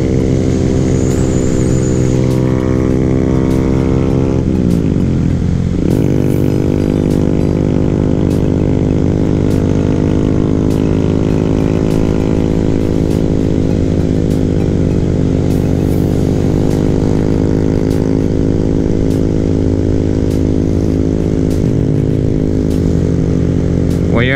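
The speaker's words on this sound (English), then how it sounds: "Down this road with the bike, it's like a little racetrack when you're on a mini bike." Small-displacement Honda Grom and Kawasaki Z125 mini bikes ride along a road, engines droning steadily up close with rising and falling pitch as they accelerate and shift, continuous throughout.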